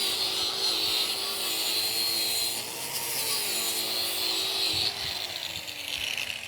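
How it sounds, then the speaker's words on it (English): Wire wheel brushing slag off a 6010 weld root on a pipe test coupon in the 6G position, a continuous harsh whirring scrub that holds steady and dips briefly, close and loud. "We'll go ahead and we'll wire wheel this off so we can get a look at it."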